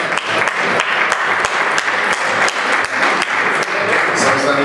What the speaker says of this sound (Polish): Tu zasłużone brawa na Juvi Debuszowo.